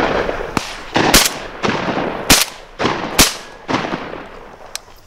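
Shotgun blasts during a duck shoot at Monfortinho, a series of about six sharp reports spaced roughly a second apart, some near and loud, others fainter, over outdoor background noise.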